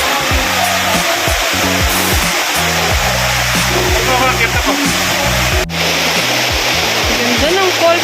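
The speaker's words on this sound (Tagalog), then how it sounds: "Wow, ang ganda ng falls." Diguisit Falls in Baler, Aurora pours in a loud, continuous rushing roar. The broadband wash of falling water stays steady throughout, with overlapping voices and low tonal sounds over it.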